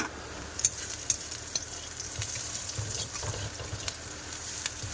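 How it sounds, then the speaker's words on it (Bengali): Ingredients sizzle in a pan while being stirred, with a steady fry hiss broken by several sharp spoon clicks against the metal. "ভালো করে নাড়াচাড়া করবো।"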